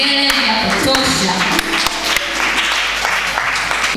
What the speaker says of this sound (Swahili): nisikie makofi na vigelegele vya kutosha